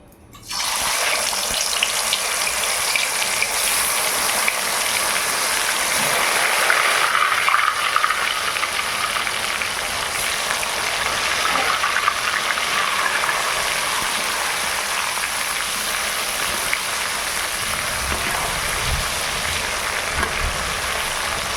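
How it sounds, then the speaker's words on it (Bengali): Chicken for biryani, marinated overnight, frying in hot oil over low heat: a steady, continuous sizzle holds at an even level throughout, with no talking. "এবার তেলে ভেজে নেব।"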